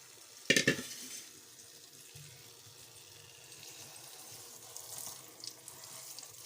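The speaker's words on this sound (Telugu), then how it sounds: "జనపువ్వును వాష్ చేసుకుంటున్నాను." Sunn hemp flowers are rinsed under a running kitchen tap, with a soft, steady stream of water and a sharp clatter near the start, all fairly quiet.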